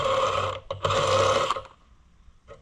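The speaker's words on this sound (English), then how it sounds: "twisting off the roll pin." A roll pin twists off a part on an Oliver Super 77 tractor under a power tool: a loud grinding whir, a brief break, another harsh burst, then quiet with a faint clink near the end.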